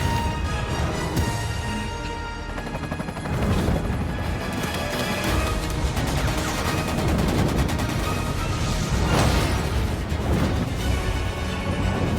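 Soldiers firing rocket launchers at a monster in Final Fantasy VII Evercrisis: dense, continuous loud bursts of blasts and crashes layered over game sound, with no one talking.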